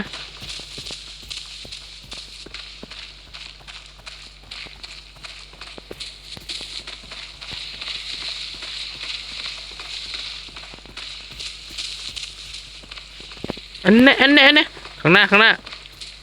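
Footsteps in the shooter game Arena Breakout, a quick steady patter of steps running throughout, with people talking excitedly over them.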